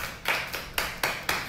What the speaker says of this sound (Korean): 일단 가볍게 박수 치고 시작하겠습니다